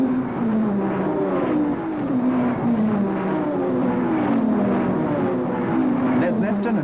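Racing cars at the 1961 Le Mans 24 Hours, including an experimental 2.4-litre car leading a 3-litre Ferrari, drone steadily with rising and falling engine pitch as they pass, under continuous commentary.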